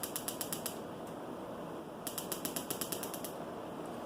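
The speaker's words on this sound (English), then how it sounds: "press the ignition button here to get this thing to light" Electric ignition button on a DeWalt Mr. Heater Buddy propane heater snapping off two quick bursts of sharp, rapid, evenly spaced clicks, separated by a short quiet pause with faint background hiss.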